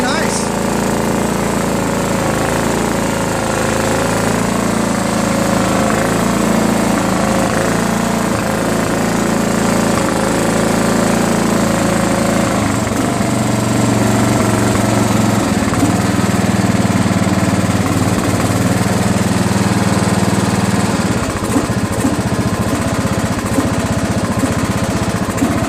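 A Kawasaki FC290V 9HP engine runs steadily on a Scotts L17.542 lawn tractor, a loud continuous mower-like drone with a low rumbling hum throughout, close by and unbroken for the whole stretch.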